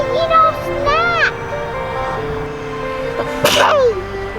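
A single sharp sneeze bursts out near the end, close and loud, after a child's high-pitched voice is heard outdoors at a riverside park.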